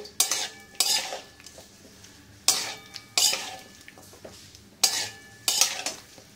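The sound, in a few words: stirring shukto vegetables in a pan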